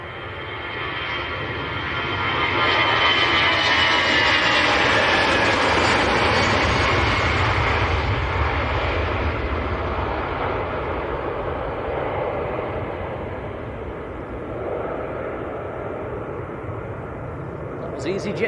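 An EasyJet airliner passes at Manchester Airport: a loud jet roar swells over the first few seconds, holds strong, then slowly eases off as it moves away.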